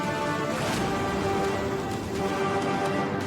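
Heavy monsoon rain pours steadily beside a flooding roadside drain near a highway, a dense, unbroken wash of close, loud rainfall with no voices.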